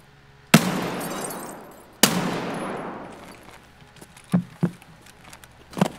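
Video game gunfire: two sharp, loud shots, each trailing off in a long echoing decay, followed by a few quicker, fainter pops, with no speech over them.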